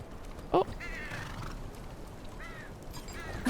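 A horse in Game of Thrones Kingsroad gives short whinnies and snorts, with soft hoof steps under a quiet background, brief bursts scattered across a few seconds.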